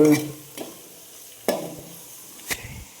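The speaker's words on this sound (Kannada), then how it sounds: "ಅಲ್ಲಾಡಿಸು ಅಲ್ಲಾಡಿಸು ಅಲ್ಲಾಡ್ಸು ಅಲ್ಲಾಡಿಸು ಚಂದಗೆ ಸ್ವಲ್ಪ" Food sizzles gently in a pan for tempered rice while a spoon stirs it in three or four sharp scrapes spread over a few seconds, close by, with no talk.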